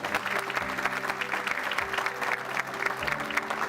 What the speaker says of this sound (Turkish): Onlar için bu alkış istirham ediyorum size.